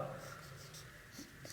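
Short scratchy strokes of writing on a board during a chemistry lesson, faint and close in an irregular rhythm of four or five marks, with the teacher's voice present in the room.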